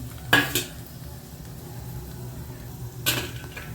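Whole spices (cinnamon, cloves, cardamom, dried red chilli and bay leaf) dropped into hot oil for a paneer gravy, two bright crackling bursts with a spoon clatter, then a softer steady sizzle between them.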